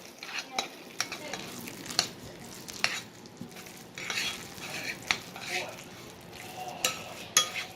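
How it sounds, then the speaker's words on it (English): Spoon stirring a crab cake mixture in a bowl, soft rhythmic scraping and squishing strokes repeating steadily, close and fairly quiet. "Give that a good mix."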